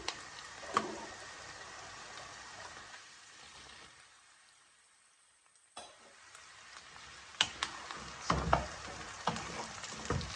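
Okra (bhindi) goes into a hot pan with a steady sizzle and frying crackle, then a brief near-silent pause, followed by loud clattering bursts of stirring close by.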